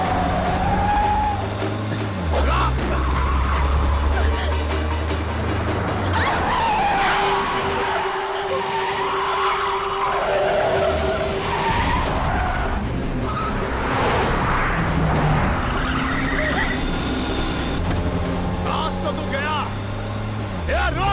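Car speeding with tires skidding and squealing in a dubbed Kannada action movie chase, loud and sustained beneath a music score, with people talking over it.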